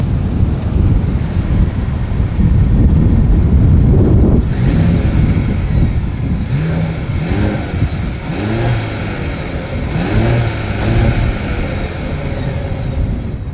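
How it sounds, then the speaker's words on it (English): A 2024 Mercedes-Benz CLE 300 Coupe's exhaust, heard as a low rumble that rises into sharper revs partway through, with repeated rev blips under heavy wind noise. "As always, here is that exhaust clip."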